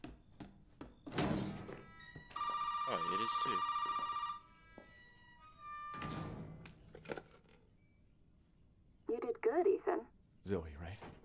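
In a horror video game, an old-style telephone bell rings in one sustained two-second burst amid heavy door thunks and footsteps, with a player talking briefly before and after.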